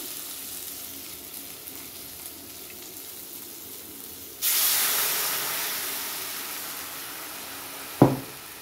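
After a quiet simmer, water hits a hot pan of frying aubergine with a sudden loud hiss that slowly fades, followed by a sharp metallic clank.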